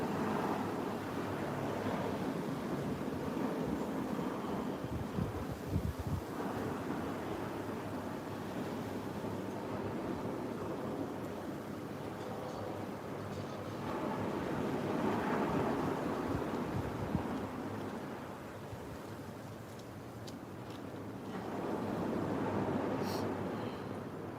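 Ocean surf washes in continuously with swelling and receding waves, mixed with wind rumbling across the microphone; no voices.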